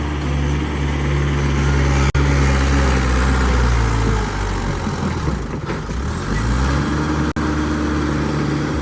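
A Mahindra 575 or Indofarm 3055 tractor engine runs steadily nearby with a loud, constant low drone, its pitch dipping and recovering partway through.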